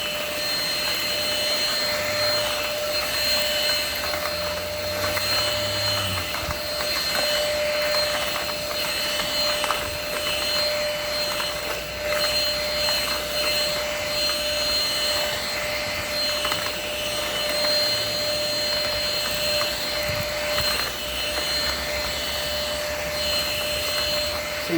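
An INSE N-5 cordless vacuum cleaner runs steadily outdoors, picking up pine needles and leaves, as a continuous high motor whine with airy hiss, close and unbroken throughout.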